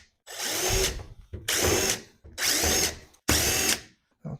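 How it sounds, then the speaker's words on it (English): Power drill backing screws out of a washing machine during a teardown, four bursts of whirring close up, each about half a second long with short pauses between. "Pull all these screws out,"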